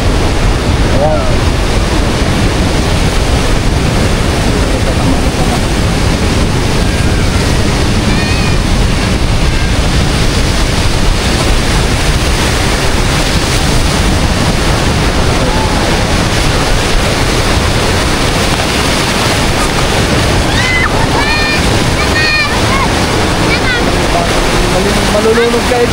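Strong waves crashing where a calm river meets the sea at a beach in San Narciso, Zambales: a loud, dense, unbroken roar of surf and rushing water with wind on the microphone, voices faintly underneath.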